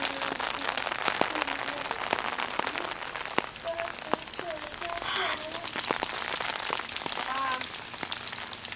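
Heavy rain falls hard on surfaces in a dense, constant hiss with scattered nearby drips and splashes, while faint voices speak under it.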